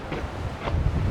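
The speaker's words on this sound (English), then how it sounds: "I hope you can hear me above the wind. It's pretty windy here today." Wind buffets the microphone in low rumbling gusts over a dry riverbed, with a couple of brief louder swells.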